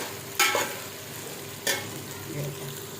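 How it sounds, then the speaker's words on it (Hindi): Onions fry in a pan for a curry, a steady soft sizzle broken by two sharp scraping stirs near the start and middle. "अब ये थोड़ा भून लूँ ताकि इसका कच्चापन ख़त्म हो जाए"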